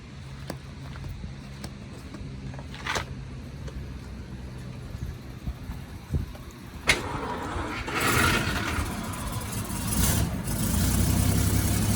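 A 1933 Cadillac V12 with an electric fuel pump cranks and fires up, then settles into a steady, fairly quiet idle heard up close alongside some mechanical clatter.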